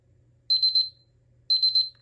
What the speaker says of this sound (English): Let's do timer 2 this time.